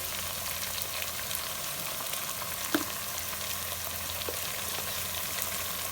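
Garlic, ginger and cumin paste fries with turmeric in a pan, giving a steady, dense sizzle throughout with a faint clink or two of stirring, close and alone.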